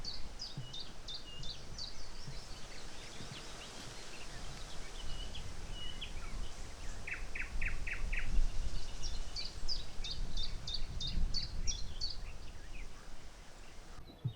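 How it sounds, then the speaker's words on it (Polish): A common chiffchaff sings bright, repeated high phrases in the Biebrza wetlands, ringing out over a rustling outdoor background, with several short bursts of chirping notes spread across the stretch. "jest pierwiosnek bardzo do niego, do piecuszka podobny, ale śpiewa zupełnie inaczej. Właśnie cilp-calp, cilp-calp"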